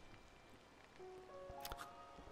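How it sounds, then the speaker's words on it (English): Rain in the video game Disney Dreamlight Valley, a soft, steady patter of drops under faint game tones, quiet throughout with a brief brighter splash near the end. "I wish that it was would stop raining, but sadly, it has not stopped raining"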